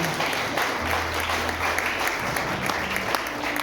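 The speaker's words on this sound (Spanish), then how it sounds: "Un aplauso fuerte al Espíritu Santo" A church congregation breaks into strong applause during a worship service, dense steady clapping that fills the room, with voices faintly mixed underneath.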